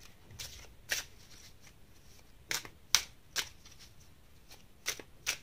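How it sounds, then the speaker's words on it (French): Tarot cards being shuffled: short crisp riffling bursts at irregular intervals, close and soft, with quiet gaps between and no talk. "Alors, je vais essayer de sortir une autre carte pour celle-ci."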